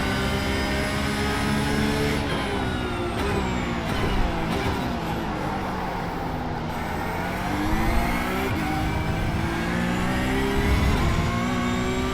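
A Porsche Cup race car in the iRacing sim roars continuously at high revs, with its engine pitch rising and falling through shifts and corners. The sound is loud and close, with no voices.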